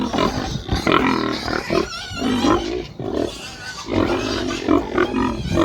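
Pigs squealing and grunting loudly at feeding time, several animals crying in overlapping harsh bursts, close and continuous.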